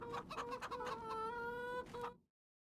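Cartoonish chickens cluck in a farming video game, a quick run of close, bright clucks and squawks that ends in a short final cluck and then silence.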